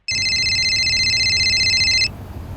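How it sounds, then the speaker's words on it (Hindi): A bright electronic telephone ring sounds in one continuous burst for about two seconds, then stops, leaving faint background hum. "देखो तो किसका फोन है?"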